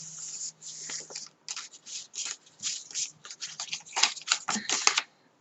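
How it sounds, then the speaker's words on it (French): Paper folds being creased into a 9 by 21 cm paper strip: a run of short, crisp scraping and rubbing strokes in an irregular rhythm, close and fairly loud, with no talk. "On marque ces plis."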